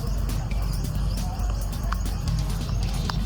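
Horses clip-clop on pavement at a kneeling carabao festival parade in Pulilan, Bulacan, with close, irregular hoof beats and a brief whinny, while people talk nearby.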